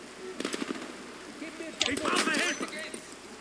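Gunfire in Call of Duty Black Ops Cold War, with several rapid bursts of shots mixed with faint voices and game noise.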